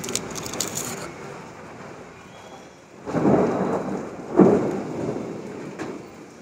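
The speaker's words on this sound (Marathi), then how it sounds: "सो पाऊस अजून पण चालू आहे" Steady rain falls throughout, with deep thunder rumbling up twice in the second half, the second roll louder and closer, and no voices.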